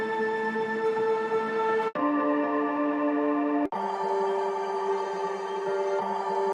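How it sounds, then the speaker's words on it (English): Layered atmospheric drone samples from a tech house sample pack, built for an FL Studio tech house track, sustain as steady tonal pads with brief dips at two points, loud and continuous with no talking. "To create an atmosphere, I went to the House of Tech sample pack, one of the bonuses packs, and selected quite a few drones."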